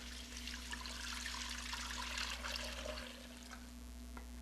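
Chicken broth and whole milk pour into a cooking pan as Italian polenta is made, giving a steady, soft rushing splash that lasts several seconds over a low hum.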